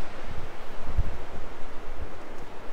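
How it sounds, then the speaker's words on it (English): Ocean waves crash on big rocks along the Oregon coast at Harris Beach, a steady low roar with swelling surges, heavy wind buffeting the microphone throughout. "Hear the roar of the water."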